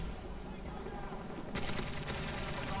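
Rapid ACR assault rifle fire in Call of Duty: Modern Warfare 3, a burst of quick shots starting partway through over steady game noise and background speech.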